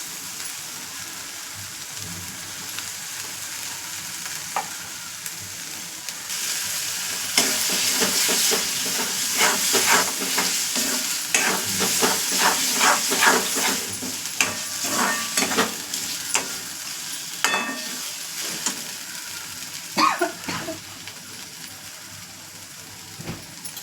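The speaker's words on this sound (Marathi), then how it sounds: "बघा, मस्त मसाला फ्राय होऊ द्यायचा, म्हणजे कसं मसाले कच्चे वाटत नाही" Chicken liver frying in masala in a pan sizzles steadily while it is stirred. Scraping and clinking strokes grow busier partway through, all close up and without talk.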